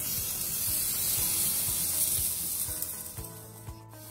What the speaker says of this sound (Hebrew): כל הקציצה היפה הזאת תיכנס עכשיו למנגל הרותח שלנו